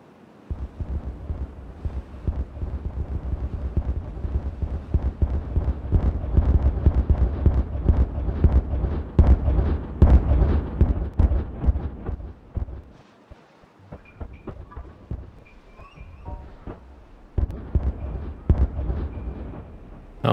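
Rapid chains of dynamite explosions in the video game Timberborn boom and crackle for several seconds, dense and rumbling, then thin out into scattered blasts after a short lull.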